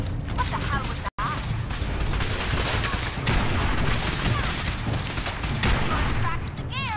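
Rapid gunfire rattles in the Fallout 4 video game on PC, with dense, loud bursts of shots running almost continuously and a brief dropout near the start.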